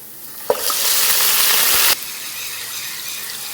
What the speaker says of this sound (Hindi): अब इसमें गोश्त डालेंगे क्योंकि इसे हमने अभी फ्राई नहीं किया।